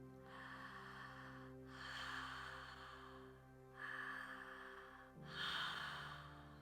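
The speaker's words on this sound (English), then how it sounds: "Opening up the mouth, constricting the back of the throat slightly," Slow, audible breaths drawn through an open mouth with a slightly constricted throat, four long airy inhale-exhale cycles with a hissing, Ujjayi-like rasp over a quiet sustained drone.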